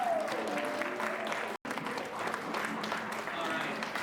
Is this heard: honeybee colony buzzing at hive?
no